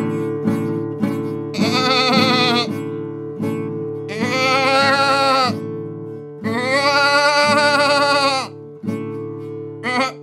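Children imitate sheep, giving a series of drawn-out, wavering bleats in several bursts over a steady droning tone.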